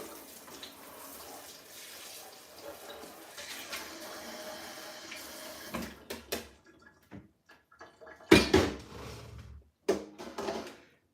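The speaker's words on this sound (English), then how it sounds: "So I'm going to pour this out." Homemade chicken broth made from frozen scraps is poured out in a steady liquid stream for about six seconds, then comes a series of sharp clinks and knocks of a pot and utensils.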